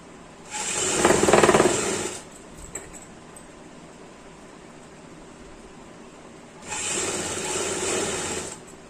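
Sewing machine stitching an umbrella frock, running in two short steady bursts of rapid mechanical whirring separated by a quiet pause, fairly close and with no talk over it.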